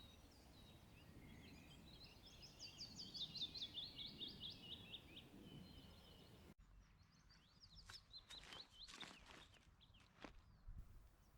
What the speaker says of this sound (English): here's our first, a beautiful little bird of the woodland fringes, a willow warbler